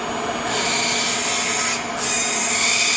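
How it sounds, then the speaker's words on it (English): A dental impression tray is trimmed with a steady abrasive rasping, loud and continuous, broken by two short pauses and changes in pitch as the tool works the edge. "Now we have to trim it down,"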